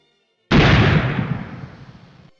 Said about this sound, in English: It looks like Johnny was wrong about the shotgun being unloaded.